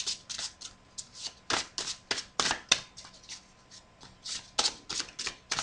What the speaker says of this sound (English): There's so few cards here, I can't quite shuffle like I'm used to.